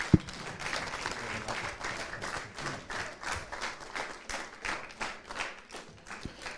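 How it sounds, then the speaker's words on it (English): An arena audience applauding the women finalists at an IPA world pool championship: a sharp knock at the start, then dense, moderately distant clapping that swells and fades in waves, with a faint voice now and then. "give the girls a mega round of applause"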